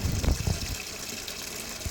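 Water runs from an LG inverter washing machine with a water inlet problem, a steady hissing rush with a few louder splashy bursts at the start, close and continuous.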